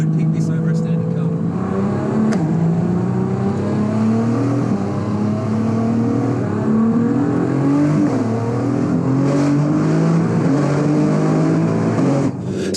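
Nissan R35 GTR making over 1000 horsepower cruises on drag radials, a steady droning engine note with shifting pitch and tyre whir running continuously and fairly loud, with a voice talking over it.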